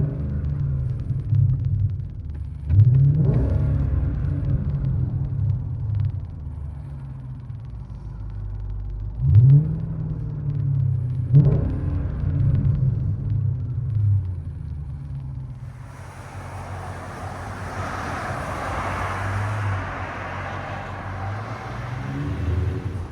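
A 2006 Jaguar XJ8 with a 4.2L V8 and Flowmaster Super 10 exhaust rumbles steadily nearby, with several short revs rising out of the low idle before a broad hiss takes over toward the end.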